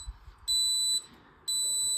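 A Raspberry Pi smoke and gas alarm beeping after gas levels are exceeded: two loud, piercing electronic tones, each about half a second long, with a short gap between them.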